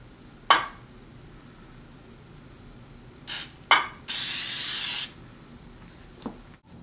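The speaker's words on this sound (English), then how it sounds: "you must spray the pan into the small Pyrex." Cooking spray hisses into a small Pyrex baking pan for blondies, first in a couple of short puffs and then in one sustained spray of about a second, close and clear.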